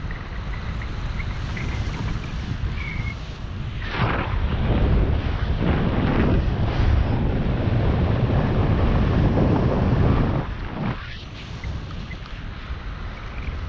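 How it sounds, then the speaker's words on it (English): Cold wind at around minus five degrees buffets an outdoor microphone, producing a continuous deep roaring rumble that swells louder for several seconds mid-way before easing back, with no voices. "There's a lot of cold wind coming on my face."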